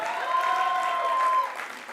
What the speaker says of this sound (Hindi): एक बार तालियां हो जाएं